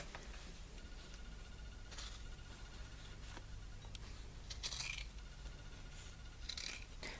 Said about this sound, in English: I'm going to be cutting above that stitching line.